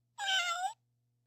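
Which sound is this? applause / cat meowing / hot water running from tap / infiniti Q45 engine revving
cat meowing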